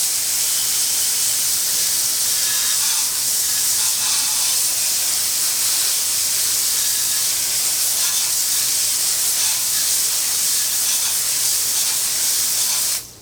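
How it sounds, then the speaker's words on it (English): A water spray rinses a Range Rover wheel after cleaner treatment, producing a loud, steady, close hiss of jetting water that holds unbroken for over ten seconds before cutting off abruptly. "Now let's just give it a rinse and we'll see what we've got."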